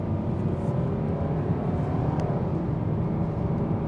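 A 2025 Hyundai Sonata SEL accelerating at about half throttle, a steady low engine drone with road and tyre roar heard from inside the cabin, continuous and moderately loud, no one speaking.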